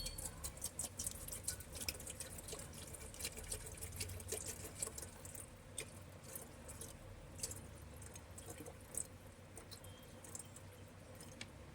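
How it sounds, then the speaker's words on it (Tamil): Water pouring into an electric kettle, with a continuous splashing trickle close by, fairly quiet, with small drips and gurgles throughout. "நமக்கு தகுந்த மாதிரி வாட்டர் ஊற்றிக்கிறோம்."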